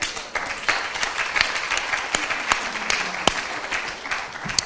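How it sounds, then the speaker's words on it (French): Audience applause at a national congress of care-home professionals in France, a steady wash of many hands clapping with sharper individual claps standing out, moderately loud throughout. "Bravo, on peut l'applaudir."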